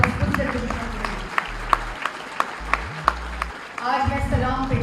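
Crowd at a political rally breaking into applause, with scattered sharp claps standing out over a low rumbling background and a broad swell of clapping rising again toward the end.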